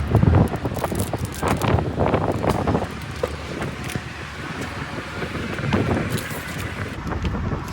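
Strong wind buffets an RV or its microphone on a highway toward Chicago, heard as continuous loud rumbling gusts with low road noise underneath.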